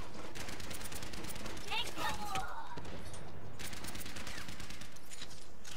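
Turret gunfire in the Overwatch video game comes as dense, fast bursts of shots under a steady layer of game noise, with a brief tonal whine in the middle and a second burst toward the end.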